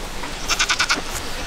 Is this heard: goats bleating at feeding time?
yes